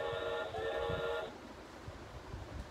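A VTech Touch and Teach Word Book toy plays a short electronic train sound, a bright horn-like tone lasting about a second before cutting off into quiet room hiss.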